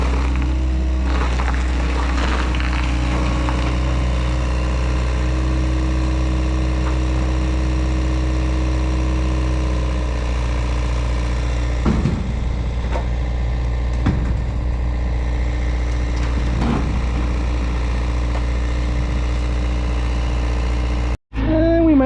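A loader engine runs steadily at a grain bin site during a 35-year-old bin reconstruction, a continuous mid-pitched drone close by with a few brief knocks and clanks partway through and no talking.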